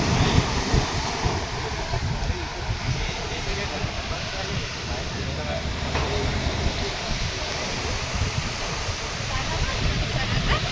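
Sea waves at Dadar Chowpatty beach, heard as a constant broad roar of surf blended with wind buffeting the microphone, steady and moderately loud throughout.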